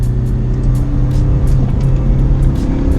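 Mitsubishi Evo III GSR on worn OZ wheels with fresh coilovers, driving hard through a corner as the front washes out; a steady, loud engine drone with tire noise fills the whole stretch, no voices.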